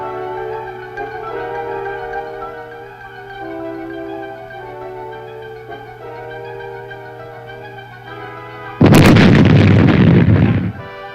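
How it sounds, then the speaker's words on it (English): Mines detonated by plastic explosive charges during the Vietnam War, set off by an armored cavalry unit's demolition crew. A steady droning hum is followed near the end by one sudden, loud, roaring blast that rumbles on for about two seconds. "these mines were destroyed by demolition experts using charges of plastic"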